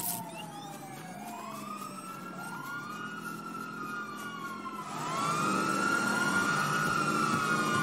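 Wailing emergency vehicle siren inside a video game, rising and falling sweeps that grow louder partway through as it nears, with no voices over it.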